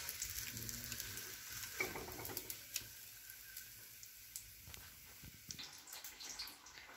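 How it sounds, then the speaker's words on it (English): Stuffed chilli bajji fry in hot oil, giving a soft steady sizzle with scattered small pops and crackles, quiet and close, with no voices. "While frying, just slightly move it and fry all the sides."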